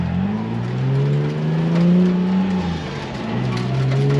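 A Ford Falcon car driving off at the Minami jump, its engine droning steadily and rising and falling in pitch as it pulls away, loud and close with no voices.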